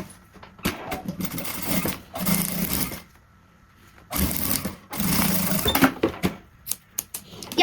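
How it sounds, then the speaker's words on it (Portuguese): Sewing machine stitching a seam alongside the edge of a fabric pouch, running in short whirring bursts with pauses between them, with occasional clicks and faint handling noises close by. "e eu vou alinhar com a lateral e passar uma costura de um pé de máquina"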